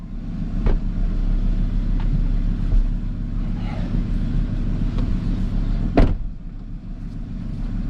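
An Audi R8 on its first drive, the engine a steady low drone with wind and road rumble inside the cabin and a couple of sharp clicks, close and continuous with no voices.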